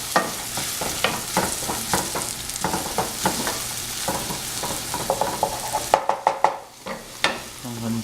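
Spiced kothu parotta sautéing in a pan: a steady sizzle with repeated scraping and stirring strokes of a utensil against the metal, close and continuous, with a brief quieter moment near the end.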